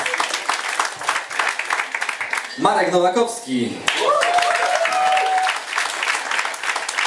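Concert audience at a song-studio show applauds band members being introduced, a dense burst of clapping under a man's amplified speech, with a sustained tonal note cutting through midway.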